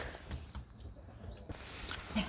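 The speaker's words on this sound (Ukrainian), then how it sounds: "Вже пташки співають." Faint, distant birdsong in a spring yard: a few thin chirps and short calls scattered over quiet outdoor background, with a clearer chirp near the end.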